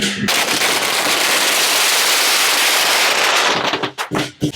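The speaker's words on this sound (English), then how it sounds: "I was walking right towards these fucking firecrackers and nobody warned me." Firecrackers at a street parade on a mountain road burst in a dense, continuous crackling barrage, very loud and close, ending with a few separate pops as the string runs out.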